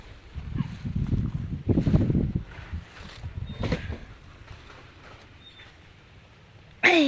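Strong wind gusting in uneven rushes of low rumbling buffeting, heavier early then easing, with a sudden loud burst at the very end.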